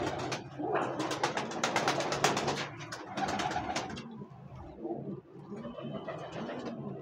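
A female Sialkoti roof pigeon held in the hand coos in repeated soft, throaty rolls, close by. Fluttering and handling noises sound in the background.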